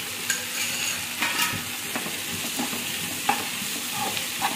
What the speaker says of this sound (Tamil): உப்பு போட்டு நல்லா வணக்கிக்கலாம்